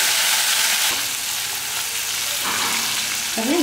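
Small onions sautéed with salt and turmeric in a pan sizzle loudly and steadily up close, with faint stirring scrapes and no talking.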